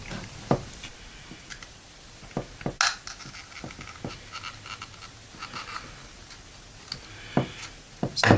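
A knife prying at the glued plastic cover of a 2014 magicJack Plus device, heard up close as scattered scrapes, ticks and sharp clicks at irregular intervals.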